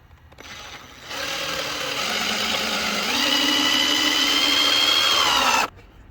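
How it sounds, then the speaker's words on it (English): Power drill boring quarter-inch holes in the air cleaner housing of a 2015 GMC Terrain, a steady whirring, grinding drone lasting several seconds, rising slightly in pitch midway, close and alone. "I got this drill bit right here, the 1/4, so I'm going to drill and make the holes"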